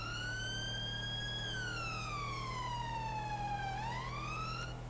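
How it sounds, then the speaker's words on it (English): A police dog unit vehicle's siren wails continuously, its pitch sweeping slowly down and then rising again, loud and close over a steady low engine hum. "So there's no traffic for a bit, so I'm going to turn off the sirens."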